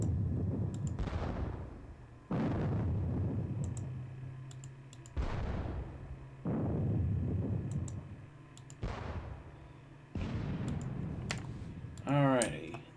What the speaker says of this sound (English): that was a good barrage